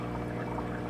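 Faint, steady flow of water bubbling through an HOG1 algae reactor in an aquarium setup, a brief continuous wash with no talking.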